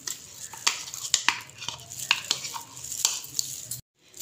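Yogurt being stirred into biryani masala in a pan, a run of repeated scraping and clinking strokes over a faint sizzle that stops abruptly near the end.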